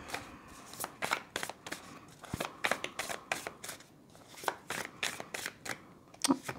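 Oracle cards are shuffled by hand for a card-of-the-day draw, a steady run of crisp flicking riffles close up and fairly quiet, with no talking.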